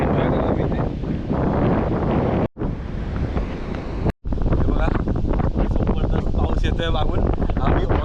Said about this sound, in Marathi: आता वारा बघा ना, छत्री पकडून बसावी लागते इथे